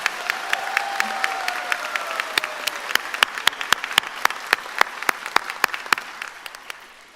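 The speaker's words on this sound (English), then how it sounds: "One more round of applause and cheer for Dr. Noyola." A crowd at a health professions school commencement gives steady applause that thins into scattered loud claps near the end, with little audible cheering.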